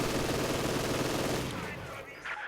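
A machine gun fires in a strategy video game, heard as a loud, rapid, sustained burst of gunfire that runs for about a second and a half and then fades into quieter distant rumbles.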